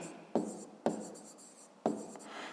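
Pen strokes scratch across paper in three short bursts, close and quiet, each starting with a light tap and trailing into soft scribbling.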